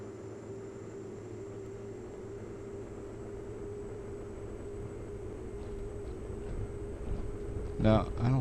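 Pilatus PC-12 turboprop engine in a flight simulator as the throttle is adjusted: a steady droning hum with a constant whine above it, growing slightly louder toward the end with a brief rougher surge.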